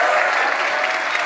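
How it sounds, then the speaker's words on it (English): Sustained audience applause after a multiplayer game reveal, a dense, even wash of clapping that holds steady for the whole short stretch. "Let's give them a round of applause."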